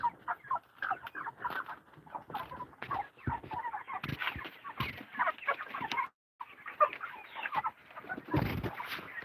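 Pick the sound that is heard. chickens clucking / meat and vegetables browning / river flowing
chickens clucking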